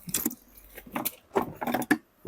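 A guitar tech's well-worn touring tools (scissors, pliers and cutters) clink and rattle as they are handled in a tool bag, with close, bright metallic jangles in several quick bursts.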